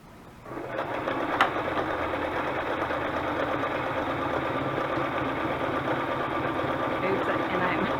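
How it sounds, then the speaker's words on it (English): A sewing machine stitches a decorated junk journal bag, sewing straight over wet glue; a steady, close mechanical whir runs continuously after a brief start, with a faint click partway through. "I'm sewing right on top of my glue"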